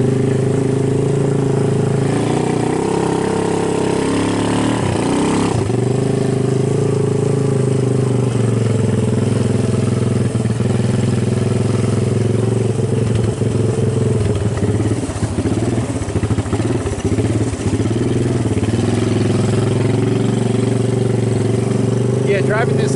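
Honda ATC200 three-wheeler driving through heavy, already-tracked snow, its single-cylinder engine droning steadily close by and surging with throttle changes; someone talks over it throughout.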